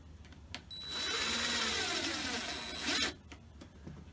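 A screw driven by a power driver into a wooden Langstroth hive box, one steady whirring burst lasting about two seconds, close and fairly loud, with brief clicks before and after.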